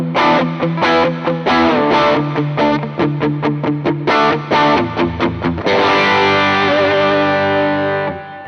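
Overdriven electric guitar through a tube-modded Ibanez TS808 Tube Screamer pedal by Peace Hill FX, playing a rhythmic run of chords and notes that ends on a long ringing strummed chord, loud and close with no talk.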